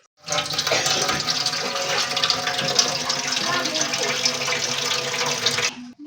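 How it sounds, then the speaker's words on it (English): A kitchen tap runs strongly as tomatoes are washed under it, a loud, close, continuous gush of water lasting several seconds before it stops, with some faint talking beneath. "Wash tomatoes first and cut."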